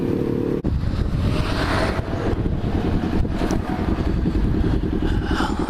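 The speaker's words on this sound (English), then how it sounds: "it is windy as a mofo" Strong wind buffets the microphone continuously, a loud, low rumbling roar with gusty fluctuations and no other clear sounds.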